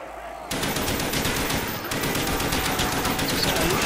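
Rapid automatic gunfire rattles in a zombie survival video game, a dense, loud burst of fast repeated shots that continues without pause.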